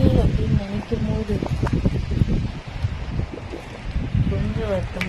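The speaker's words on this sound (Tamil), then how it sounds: "எப்படி காத்தடிக்குது பாருங்க" Strong wind gusts in buffeting bursts against the microphone, loud and rough, with a voice talking over the noise throughout.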